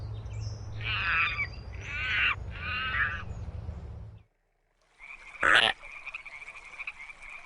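A rainforest frog croaks in three close, rasping pulses, followed after a short silence by a sharp chirping call and a sustained high trill.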